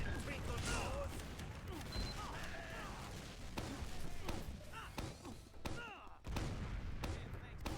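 A Demoman's pipe grenade launcher fires in the Team Fortress 2 video game, with sharp thumping shots and bangs scattered through busy game noise while a voice talks.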